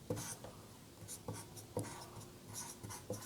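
Handwriting with a steady scratch of strokes, each one a short burst with brief pauses between, as a worked maths statement is written out by hand; close and quiet, with no talking.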